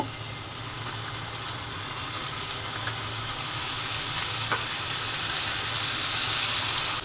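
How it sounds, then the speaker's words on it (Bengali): Eggplant slices fry in a pan with a steady, bright sizzle that grows slightly louder, close by, with a faint low hum underneath. "এখন বেগুনগুলো ভেজে নেব"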